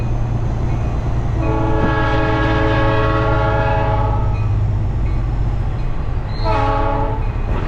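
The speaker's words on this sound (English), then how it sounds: "Train coming, so we're gonna have to stop." A locomotive horn sounds in long harmonic blasts, then fades and returns with a second shorter blast, over a steady low rumble of rolling rail cars as a train passes.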